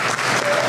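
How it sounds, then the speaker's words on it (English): Brief burst of audience applause at an outdoor Fourth of July community celebration, dense crowd clapping throughout with no pauses. "Give them a round of applause."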